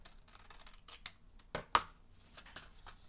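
Scissors snip through a paper tab while a coin purse is crafted, giving a few short, crisp close cuts, the sharpest pair near the middle, over a quiet background.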